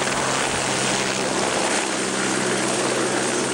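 A firefighting aircraft drones overhead during a wildfire, a steady, loud roar with a pulsing rotor-like beat that holds constant without letting up.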